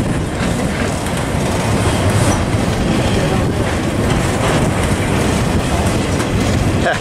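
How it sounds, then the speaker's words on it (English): Union Pacific freight train rolling out of Tunnel 5 at Tehachapi, a loud steady roar of wheels and cars with rhythmic clickety-clack throughout, close by and continuous. "here's the same train, the end of it and the head end coming out of Tunnel 5"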